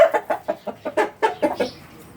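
Hens cluck in a quick, regular series of about ten close, clear calls in a small backyard pen, then fall quiet.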